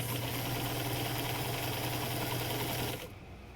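A sewing machine stitches the seams of a fabric mask, a rapid steady mechanical hum and chatter close by that runs for about three seconds and then stops abruptly.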